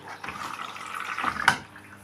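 Water runs steadily into a washing machine drum near the end of a quick-cycle fill, a continuous close hiss of pouring water with a brief louder splash toward the middle and no voices.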